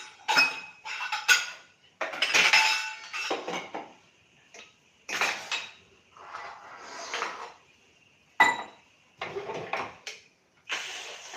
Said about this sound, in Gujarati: હવે આપણે કુકર ખોલીશું